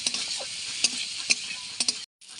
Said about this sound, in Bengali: লবণ হলুদ লঙ্কা ভালো করে এটা কষে নেবো এবার